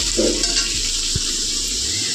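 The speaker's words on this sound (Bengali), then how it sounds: "হলুদ দিয়ে তার রঙটাকে ভেজে নিয়ে যাবো" Potatoes fry in oil with turmeric in a pan, giving a steady close sizzle with a few soft stirring knocks and no talk.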